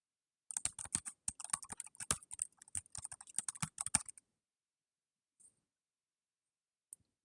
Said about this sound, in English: So if I type, this is what you hear through the microphone.